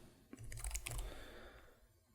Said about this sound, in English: we go down to Start, and we go down here and we type user account